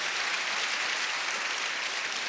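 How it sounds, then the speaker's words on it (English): An audience at a live love-themed talk show claps, a dense and even burst of hand clapping heard on its own at steady volume. "Give a strong hand clap to God."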